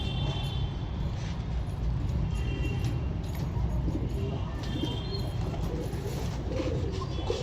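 Pet pigeons coo softly amid a constant dense background rumble, with faint scattered chirps and light jingling close by.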